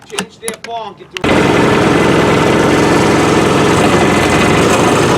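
A jet ski engine, choked, catches abruptly after a voice speaks, then runs at a loud, steady rumbling idle close by.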